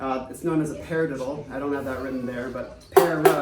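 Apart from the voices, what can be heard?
No everyday noise stands out behind the speech.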